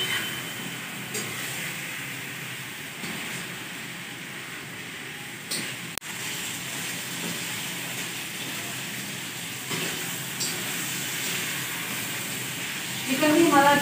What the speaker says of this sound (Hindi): अभी जी हमारा चिकन फ्राई हो रहा है।